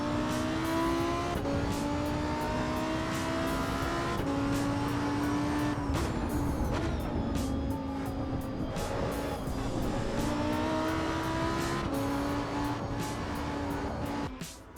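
A Lamborghini races around Imola in the video game Assetto Corsa EVO, its engine loud and constant as it revs up and down through gear changes, with occasional tire noise and no talking.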